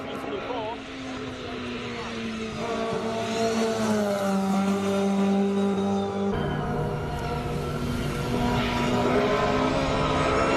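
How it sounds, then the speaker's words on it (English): A Mazda RX-7 with a 20B three-rotor engine, racing at a classic-car hill climb in Cape Town, holds loud high-pitched revs with strong rising harmonics, sustained and close throughout, with voices talking over it. "One of the loudest and obviously high revving cars of the hill climb on Saturday's Classic."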